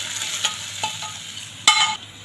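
Tomatoes frying in hot oil in a pan while being stirred: a soft, even sizzle broken by a few light scraping stirs and one sharper utensil clatter near the end.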